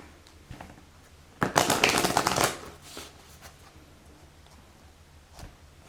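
A deck of oracle cards gets one brisk, close riffle shuffle lasting about a second, with quiet handling clicks before and after and no talking.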